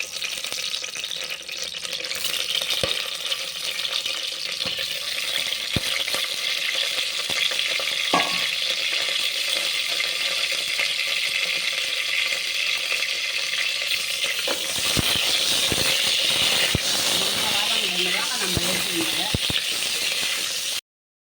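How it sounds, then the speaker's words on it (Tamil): Whole tomatoes fry in a pan with a continuous close hiss and sizzle, broken by occasional clinks and stirring scrapes that grow busier toward the end. "இந்த முழு தக்காளி அதில் போட்டு வதக்கிக்கின்னு இந்த தோலை எடுத்துடணும்"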